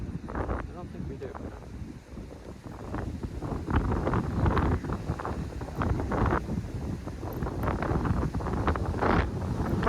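Strong gusting wind buffets the microphone beside a spillway on a fishing outing, a steady loud broadband rumble throughout, with voices faintly mixed into the roar.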